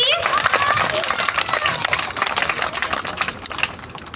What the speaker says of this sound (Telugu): అందరు క్లాప్ చేస్తారా జాయ్కి?